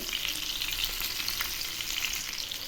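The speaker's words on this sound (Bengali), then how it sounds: "এখন এই গরম তেল একটু ধনিয়া পাতার উপরে ছড়িয়ে দিচ্ছি, তাহলেই ফ্রাই হয়ে যাবে" Hot oil sizzling steadily in a pan as pomfret masala fish fries Bengali style, a close, continuous crackling hiss with no talk.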